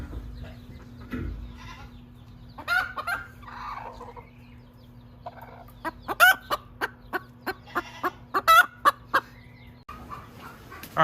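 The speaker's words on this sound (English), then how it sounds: "now that the chicken madness has calmed down a little bit" Backyard chickens kept through a historic 2021 Oklahoma City blizzard, clucking and squawking in bursts, with a run of sharp repeated calls building toward the end, near and fairly loud with no talk.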